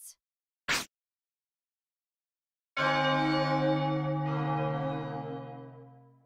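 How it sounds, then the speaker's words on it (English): A large bell rings once in the Chocobo's Mystery Dungeon video game, a deep resonant toll with a long, slowly fading shimmer, preceded by two short faint blips. "Ring out, Bell of Oblivion! Ring out!"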